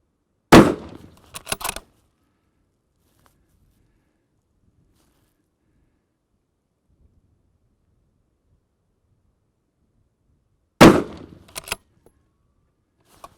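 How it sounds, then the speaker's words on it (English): Rifle shots on a long-range shooting range, two loud sharp reports about ten seconds apart, each with a short trailing echo, separated by near silence. "Let's shoot some more."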